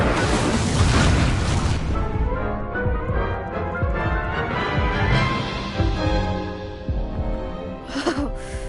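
A fire spell cast in Hogwarts Legacy, a dense roaring whoosh with booming bursts of flame that stays loud for most of the clip, then gives way to a brief crackling flare near the end.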